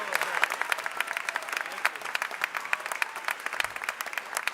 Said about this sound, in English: can we do another big round of applause for both Dr. Starr and our 5 amazing grant winners?